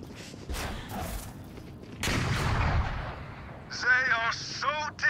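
Killjoy's swarm grenade going off in a video game, a burst of rapid popping blasts followed by a louder second volley, with a voice cutting in briefly near the end.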